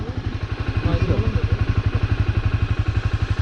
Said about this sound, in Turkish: Bak çalıştır motoru.